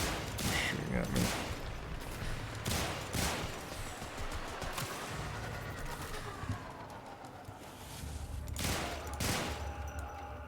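Bursts of gunfire in the Warframe video game come in several separate volleys spread through the stretch, moderately loud, mixed with game sounds and a player's voice talking in between.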